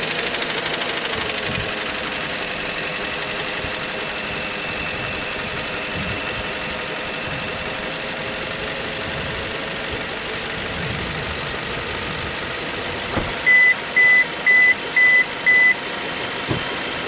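The four-cylinder 1.2 Dualjet Hybrid engine of a Suzuki Swift idles steadily and smoothly for the whole stretch, close up, with a few short electronic beeps near the end.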